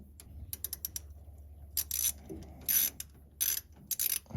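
Ratcheting of an 11/32 socket wrench undoing a joint under a Triumph Roadster during restoration: several short bursts of dry clicking, close and fairly loud, separated by quiet gaps.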